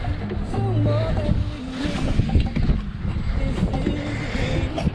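The sailboat Narhval, with a reef in the main, moves through choppy water with a crew aboard, bringing a constant wash of water and wind noise along the hull under nearby talk.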